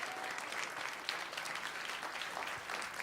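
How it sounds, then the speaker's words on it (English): An audience gives a committee a round of applause, continuous dense clapping from many people, fairly distant and even in level for a few seconds. "So let's give the committee another round of applause."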